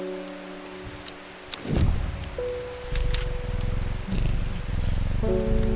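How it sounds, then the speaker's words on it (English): A cat purrs in the video game Strange Horticulture, a low steady rumble that continues for several seconds beneath soft rain and game music tones, with a brief louder swell partway through. "Just love the sound of a cat purring."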